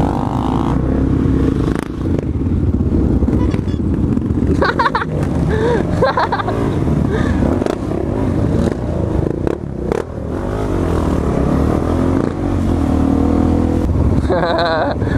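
Motorcycles pulling wheelies on a London street during a rideout, engines revving and roaring close by over a continuous clattering street din, with people talking throughout.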